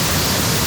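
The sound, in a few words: rushing mountain stream water in a valley after heavy rain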